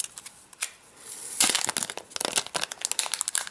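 Crinkly plastic wrap is peeled off an aluminum Apple TV remote, giving several bursts of crackling and crumpling close by, with brief pauses between them and no talk.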